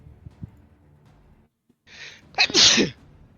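A quick sharp intake of breath followed by one loud, explosive sneeze, close by, after a few quiet seconds of faint background noise.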